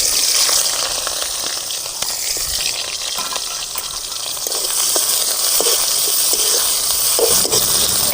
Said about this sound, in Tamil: நல்லா எண்ணெய் சூடாகி போச்சு. அரிஞ்சு வச்ச பெரிய வெங்காயம் 1 கப்பு